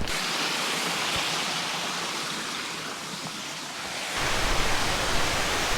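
A constant rushing roar of falling water, broad and steady, growing a little louder and rougher near the end.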